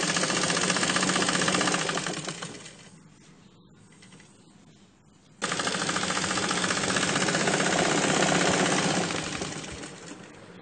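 A sewing machine stitches a chudidhar pant near the elastic with a dense, rapid mechanical whir. It eases off into a quieter stretch midway, then abruptly restarts at full speed.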